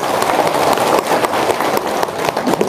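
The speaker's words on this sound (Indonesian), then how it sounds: "Tepuk tangan dong." Applause from an audience at an Indonesian seminar: dense, steady clapping from many hands carries on without a break, loud and close.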